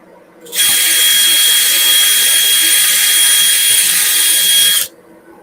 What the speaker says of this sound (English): I'm just going to drill a brand new pilot hole